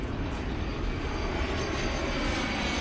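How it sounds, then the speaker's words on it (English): A Hawaiian Airlines inter-island jet roaring overhead, a loud, broad, continuous engine rush that holds steady for a few seconds, with no voices. "That was an inter-island jet."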